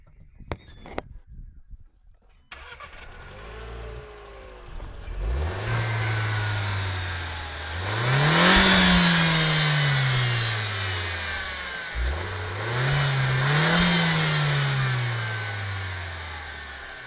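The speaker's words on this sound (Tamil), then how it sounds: "இன்ஜினோட சவுண்டு கேட்குறங்களா?" Renault Duster with a 1300cc four-cylinder engine starts, idles, and revs up twice in smooth, rising and falling sweeps, close by and loud, with a few clicks before it fires.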